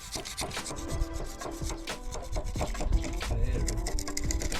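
A cable rod rattles and scrapes inside a wall cavity behind wood, giving an uneven run of rubbing, rasping knocks that continue steadily, close and alone.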